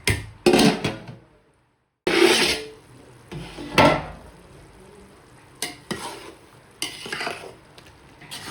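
A lid is set onto a pot of seeraga samba mutton biryani, producing a few close metallic clanks and scraping knocks separated by short pauses.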